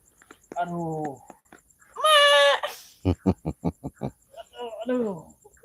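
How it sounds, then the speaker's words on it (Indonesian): Goat bleating several times at close range: drawn-out wavering bleats, then a quick stuttering run of short bleats, then another long cry, loud and alone against a quiet background. "Suara kambing."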